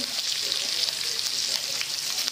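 Onions fry and get stirred in a hot pan while cooking odong, a dense continuous hiss of sizzling oil up close, steady and loud throughout with no talking.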